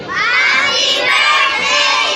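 Children and guests at a seventh birthday party shout hooray together in a loud, sustained crowd cheer that fills the whole moment with excited voices.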